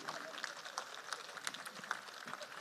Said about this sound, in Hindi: तालियां जोरदार सर के लिए